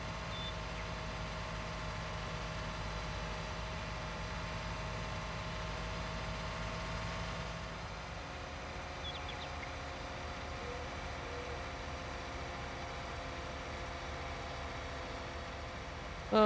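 A tractor engine in the Farming Simulator 19 game drones steadily and evenly, then its pitch and load shift partway through as the machine slows, with no talking.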